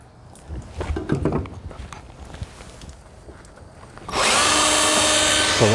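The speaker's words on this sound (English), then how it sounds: "So let's start the drill." A drill-powered quail plucker kicks on after a few seconds of handling clatter, then runs in a loud, steady whirring whine while plucking a wet quail.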